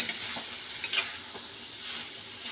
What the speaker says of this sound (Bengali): ততক্ষণ চলুন দেখে নিই আমি আলুটা ভাজা হয়েছে নাকি